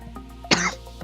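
A single sharp, close cough rises above a quiet background of low hum and faint tones during a rallycross racing commentary stream.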